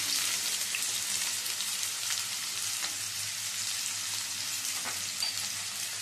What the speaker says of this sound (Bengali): এবার পেঁয়াজটা একটু বেরেস্তার মতো করে ভেজে নেব।